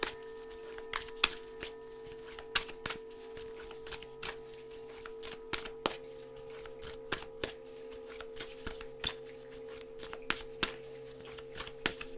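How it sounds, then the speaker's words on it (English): Tarot cards being shuffled by hand, a rapid series of soft riffling and slapping bursts repeating steadily, close and quiet with no talking. "The thought process is going through my head while I'm shuffling these cards."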